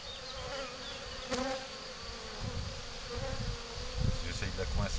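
Honeybees buzz steadily around an open Spanish Layens hive during a transfer from 6 to 12 frames, a dense close swarm hum with individual bees darting past, faint handling noises beneath.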